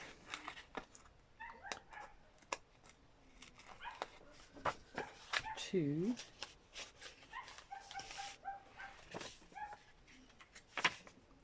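Several dogs bark, yip and whimper at a distance in intermittent bursts, with one long rising whine in the middle, under scraping and shuffling handling noises and a brief spoken word.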